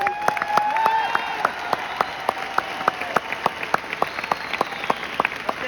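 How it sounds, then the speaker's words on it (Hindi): An audience at a Vestige award function claps steadily, a dense patter of applause with a loud, evenly spaced rhythmic clap running through it, plus some whistling tones. "ताली बजाना है तो दिल से बजाओ"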